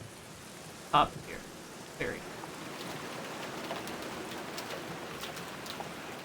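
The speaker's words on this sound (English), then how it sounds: "they went through the effort of changing the sound effect of the rain when you walk into that scene. Instead of it just hitting the ground, it's hitting the glass greenhouse" Steady rain pattering on glass greenhouse panes, a game sound effect, forms a soft, continuous wash of fine drops under brief talk and a couple of short louder knocks.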